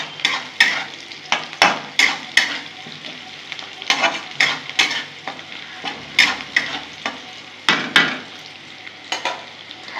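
Chopped ginger frying in a pan, with a steady sizzle broken by repeated sharp scrapes and clinks of a spoon stirring at close range, no voices.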